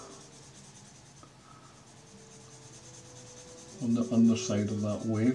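Pencil graphite rubbed across paper while rendering a greenfinch drawing: a near-silent stretch gives way to close, loud, scratchy rubbing strokes in quick repeated bursts near the end.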